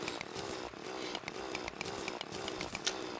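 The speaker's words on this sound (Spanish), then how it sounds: "Con el taladro de paladio, el picar se va a acabar." A palladium drill from the video game Terraria whirs as a steady buzzing, chainsaw-like drone with rhythmic pulses and crackly bursts, continuous and moderately loud for a few seconds, with no voices.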